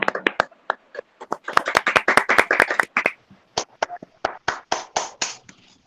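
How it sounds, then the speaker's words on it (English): Clapping during an online forum on ICT and internet policy: a handful of separate, close hand claps, irregular at first, then a quicker uneven burst, then spaced single claps, with no talk over them. "A virtual applause, please."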